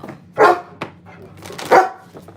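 A dog barks twice indoors, two sharp separate barks a second apart with a small yip between, moderately close and alone without talk.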